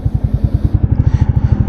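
A Royal Enfield Meteor 350 motorcycle idles or rides at low speed, its single-cylinder engine thumping in a loud, even, fast pulse close by on a heritage site in Jaipur.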